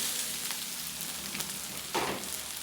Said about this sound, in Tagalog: So ito mga taste buds, so haluin muna natin to.